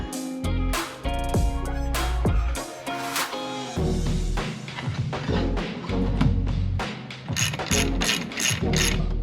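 A hand ratchet clicks rapidly in repeated bursts while tightening the linkage on a 25 hp Yamaha outboard motor, loud and close, with short pauses and mechanical knocks between strokes.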